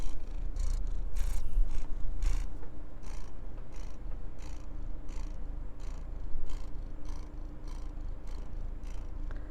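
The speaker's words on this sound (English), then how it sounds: "Can you hear him purr?" Close, loud cat purring with a rhythmic rumble, each breath cycle audible as a soft rise and fall, no voices.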